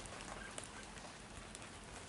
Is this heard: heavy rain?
yes